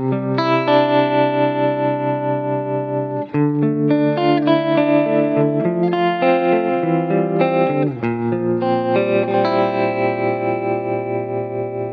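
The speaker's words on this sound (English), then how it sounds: "the chorus is kind of ever so slightly grabbing a hold of the tone and just adding a little shimmer on top" Clean electric guitar run through an Axe-Fx II, with a subtle chorus adding shimmer and a gentle tremolo, played as sustained chords and picked notes that ring continuously and fairly loud for about twelve seconds, no talking.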